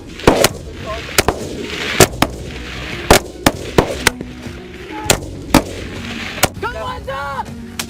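Weapons fire in combat near Zmiin, Ukraine, with sharp, loud shots cracking out about a dozen times at irregular intervals, some closely spaced. Shouting voices are heard between them.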